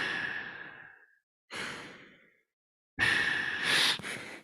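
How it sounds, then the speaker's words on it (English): Three heavy, hissing breaths drawn through a special mask meant for exploring deep volcanic environments, each a loud rasping rush close to the mic, separated by short silences, with no talking. "here we have a special mask that I might use to explore deep into the volcanic environment. So you can maybe hear me breathing"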